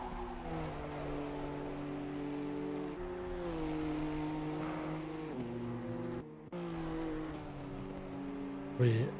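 Racing cars from a multiclass sim racing game lap the Bathurst circuit, their steady engine drone shifting pitch with gear changes as cars pass, a brief dip near the end, then a louder car sweeping by with faint commentary underneath.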